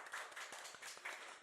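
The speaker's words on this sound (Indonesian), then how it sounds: "Oke, tepuk tangan buat kita semua." Faint, scattered clapping from a small audience at a school podcast event, individual claps audible in an uneven rhythm, fairly distant.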